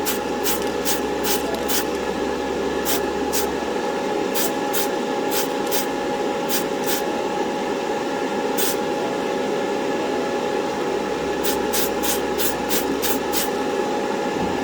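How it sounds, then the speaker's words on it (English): A steady hiss of an aerosol spray can painting the trunk lid of an AMT 1968 Corvair model car runs continuously, broken by a series of sharp clicks, close by and with no voices. "Spray it from a nice distance away."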